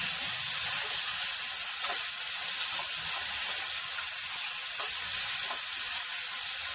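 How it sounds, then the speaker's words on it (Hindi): Potatoes frying in a hot pan on a high gas flame, giving a steady, close sizzle with a bright hiss and faint crackles throughout, no voices. "ये देखिए इसको हम फ्राई करेंगे।"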